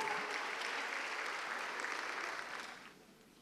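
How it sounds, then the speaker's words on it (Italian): An audience at an evening of a singing competition applauds before a performance, a dense wash of clapping that holds steady and then fades out near the end. "Facciamogli un applauso"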